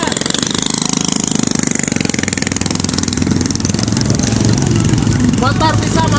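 Motorcycle engines putter and throb nearby at a street protest over a damaged road, idling with a steady pulse and swelling as one passes. Voices talk over the engine noise.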